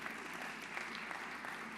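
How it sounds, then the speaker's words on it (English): Audience hand clapping at a morning gathering, a dense, even patter that sounds distant and fairly faint and holds steady for a couple of seconds with no talk over it. "Can we just give the Lord a hand clap this morning"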